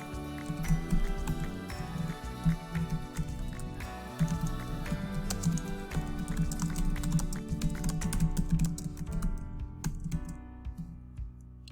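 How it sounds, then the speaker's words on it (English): Continuous rapid clicking of keys on a computer keyboard as new text is typed, close and steady with brief pauses, trailing off near the end. "I can simply delete the current text and begin typing in new text"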